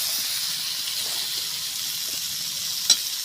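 Boiled jackfruit and potato hit hot spiced oil in a pan, giving a steady, close sizzling hiss with one sharp clink near the end.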